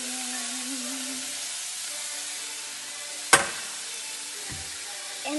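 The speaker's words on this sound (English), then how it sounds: "Now oil is hot, so I'm gonna add all the veggies." Vegetables sizzle in hot oil for Indo-Chinese veg fried rice: a steady frying hiss throughout, with one sharp clatter partway through and a faint knock after it.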